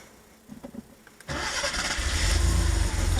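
A 25,000-mile 1989 Porsche 930 Turbo Cabriolet with G50 gearbox cold starting: a few faint clicks, then the engine cranks and catches, settling into a steady, growing rumble of idle close by.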